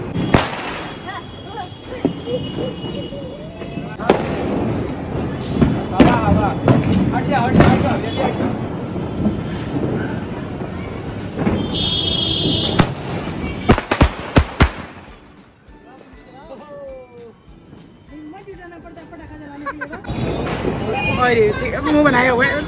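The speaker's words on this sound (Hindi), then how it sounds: "पटाखा देख लो पटाखा" Diwali firecrackers and fireworks go off nearby in a run of loud bangs, crackles and whistling bursts, with people talking throughout and a quieter stretch before the blasts resume.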